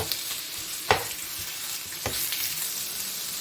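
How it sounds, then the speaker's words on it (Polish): Meat sizzles steadily in a hot pan, with a couple of sharp scraping stirs cutting through the constant frying hiss. "Na rozgrzaną patelnię rzucamy nasze mięso."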